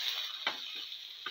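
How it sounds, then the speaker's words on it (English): Fenugreek powder sautéing in a pan gives a steady, fairly quiet sizzle, with three brief scraping strokes of stirring breaking through it. "Thoroughly saute."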